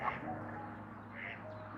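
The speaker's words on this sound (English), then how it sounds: "you can actually hear the goose trying to sing his anthem" A couple of short nasal Canada goose honks, faint and somewhat distant, over a low steady background hum.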